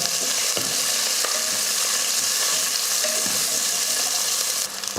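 Sliced onion and green chillies frying in oil with cardamom, cloves and bay leaves for chicken biryani, a loud continuous sizzle with occasional stirring scrapes from close by.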